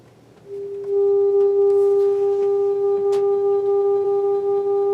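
Steady amplitude-modulated tone from a signal generator driving a short wire, picked up on a CC Skywave radio: a sustained, slightly warbling hum with faint overtones that swells in and holds alone over a soft hiss.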